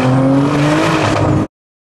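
A 1300 hp BMW M3 engine holds a loud, steady rev with a dense, roaring drone close by, then cuts off abruptly.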